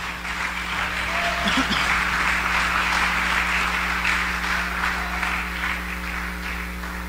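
A church congregation applauds during a sermon, giving a steady wash of clapping over a low electrical hum that holds at an even level throughout.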